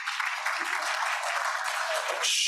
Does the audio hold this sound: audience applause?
yes